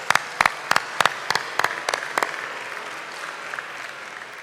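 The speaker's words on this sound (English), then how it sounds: "please, just a round of applause for all our sponsors tonight" Sponsor applause at a Habitat Chattanooga fundraising event opens with a series of sharp, evenly spaced loud claps, then settles into softer scattered clapping from the audience.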